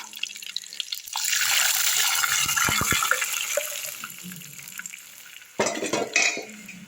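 Liquid poured into a hot tempering of mustard seeds, curry leaves and dried chilies for gooseberry pepper rasam, giving a sustained sizzling hiss for several seconds, then a brief louder splash near the end, close by.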